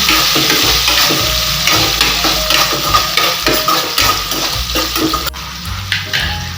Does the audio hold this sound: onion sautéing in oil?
yes